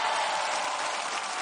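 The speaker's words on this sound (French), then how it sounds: "Ouais, on peut les applaudir très fort" Dense, steady applause from a studio audience at a French TV entertainment show, loud and continuous throughout with no voices on top.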